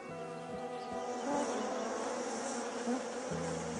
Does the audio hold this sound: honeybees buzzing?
yes